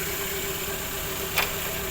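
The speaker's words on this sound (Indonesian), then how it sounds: "Kondisi posisi mesin sudah menyala." A 1995 Toyota Corolla idles with its hood open, a steady low engine hum with a faint constant whine, heard close by, with one brief click partway through and no voices.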